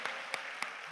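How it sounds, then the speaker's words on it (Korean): A single person, the church vice president, claps at a revival service at Osanri: four crisp, evenly spaced hand claps about a third of a second apart, close and distinct against a quiet hall. "우리 부총재님만 박수치고 계시네."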